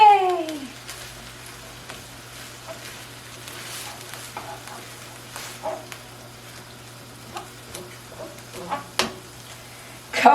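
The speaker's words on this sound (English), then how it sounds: "about 3 tablespoons of tomato paste. And stir it around." Tomato paste being stirred into curry potatoes in a hot pan: soft sizzling under scattered scraping and clinking of the spoon against the pan, with a brief tonal sound at the start and a steady low hum throughout.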